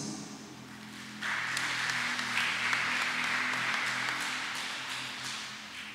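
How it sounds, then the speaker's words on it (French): People at a midday Catholic Mass applaud the cameraman and other helpers. The clapping starts suddenly after a quiet moment and keeps going at a moderate level over a low, steady tonal hum. "Nous les applaudissons."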